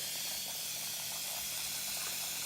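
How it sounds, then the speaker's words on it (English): A steady rushing hiss of water pouring continuously into a bucket, even and unbroken throughout. "we're going to start filling up the bucket and add 5 pounds of water"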